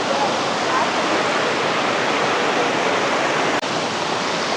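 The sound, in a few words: Netravathi river waterfall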